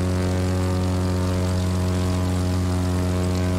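Propeller plane engine flying in The Crew 2 video game, a loud, steady droning hum with strong even tones and no change in pitch, heard alone without voices.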